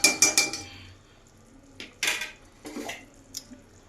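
A metal cooking pot of gravy is handled and covered with a lid, giving a quick series of close clanks and clinks followed by a few softer scattered knocks, with no talking.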